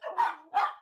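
A dog gives two short, close barks about half a second apart, clear and moderately loud with nothing else around them.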